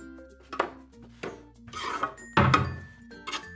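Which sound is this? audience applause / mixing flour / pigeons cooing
mixing flour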